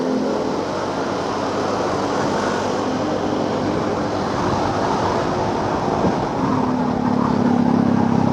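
Steady road traffic noise during a heavy evening jam on the road between Jakarta and Bekasi, with a continuous broad engine and tire rumble heard from close by on a motorbike.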